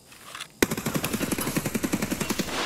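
Rapid automatic gunfire in Escape from Tarkov, a loud sustained burst of evenly spaced shots after a brief quiet lead-in, close and unbroken.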